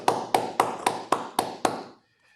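Seven evenly spaced, crisp claps ring out during a Zoom meeting call, each sharp and close, in a steady rhythm before falling silent.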